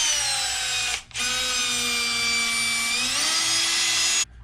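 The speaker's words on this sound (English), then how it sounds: "I'm going to drill some holes in bare metal" A power drill whines steadily at close range, pausing briefly after a second, its pitch rising slightly as the bit bites through bare metal.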